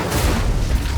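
An Incendio fire spell blasts in Hogwarts Legacy, a dense, loud roaring burst of fire filling the whole moment with low rumble and no pauses.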